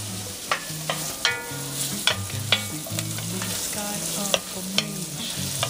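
Chopped onion sizzles in a hot pan for a tomato sauce, with a steady frying hiss broken by repeated sharp scrapes and clicks of stirring.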